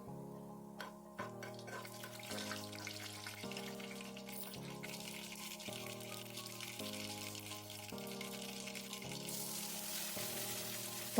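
Mustard seeds and cumin fry in about two spoons of oil in a pan on a stove, a steady soft sizzle running beneath louder background music.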